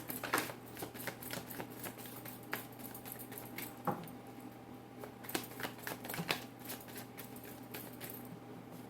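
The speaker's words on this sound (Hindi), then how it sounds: "This is my last shuffle." A tarot deck is shuffled by hand nearby, with soft riffling flicks and crisp card taps in an irregular patter, a faint hum running underneath.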